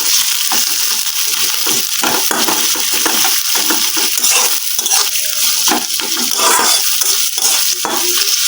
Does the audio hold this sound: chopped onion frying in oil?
yes